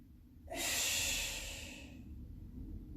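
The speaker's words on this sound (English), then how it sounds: "Exhale on the way up." One long, breathy exhale during an elbow press exercise, close and audible, lasting over a second before fading into quiet room tone.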